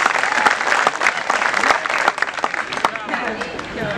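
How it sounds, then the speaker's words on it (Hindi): Loud enthusiastic applause from a crowd at a Hindi kavi sammelan poetry stage, dense clapping with sharp individual claps popping out, fading slightly toward the end, with cheering voices mixed in. "एक बार जोरदार तालियां, हाथ उठाकर प्रभात के सम्मान में"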